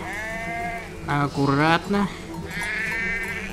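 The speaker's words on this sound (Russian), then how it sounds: "О, овцы." Sheep bleat in the World War I video game Valiant Hearts: The Great War, a loud, wavering bleat rising and falling in the middle, under and around someone talking.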